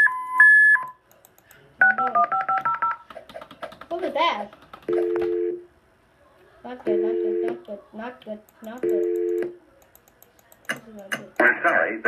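Telephone keypad dialing tones in a Roblox game: several bursts of beeping tones, then an automated recorded voice message with more tones between its phrases, loud and clear.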